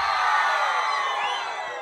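A big concert crowd at a forró show shouts and cheers loudly and continuously, a dense wash of voices and whoops.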